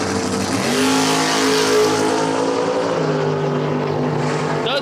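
A 1968 gunmetal gray Camaro drag car launches at the start line, its loud engine roaring continuously with a raw, heavy drone at close range and no voices over it.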